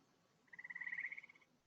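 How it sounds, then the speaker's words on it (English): A green frog gives one faint mating call, a rapid pulsing trill of about a second, alone against a quiet background. "Green frogs are similar to bullfrogs, but they then make a different sound."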